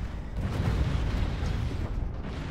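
Explosions from a space battle in the strategy game Stellaris make a dense, continuous low rumble of booms, steady and moderately loud, with no speech.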